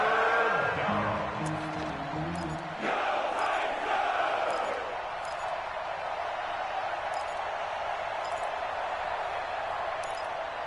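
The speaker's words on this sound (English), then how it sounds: "The crowd getting into it as we come up on a big third down." A football stadium crowd at a Texans vs. Titans playoff game roars steadily, a broad wash of cheering that swells after a brief lull and holds loud, with faint voices mixed in.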